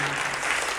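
A church congregation claps together at a Christmas worship service, a dense, steady burst of applause filling the room for a brief moment with no voices over it.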